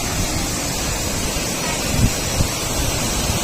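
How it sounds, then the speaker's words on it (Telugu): Heavy flow of the Jayamangli River rushing past Muddenahalli Bridge near Hindupur: a loud, continuous broadband roar of churning water with wind buffeting the microphone. "చూడండి ఫ్రెండ్స్ నీళ్ళు ఎట్లా దూకుతున్నాయి, భలే ఉంది కదా."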